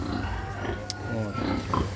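A farm pig grunts in low, rough bursts throughout, fairly close, with a voice faintly present at times.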